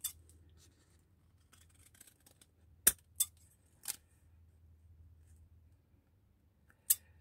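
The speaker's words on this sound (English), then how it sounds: "we'll trim this down to match size wise" Scissors snip paper while a Tim Holtz mini folders journal is trimmed to size, a few sharp isolated cuts spaced apart against a quiet background.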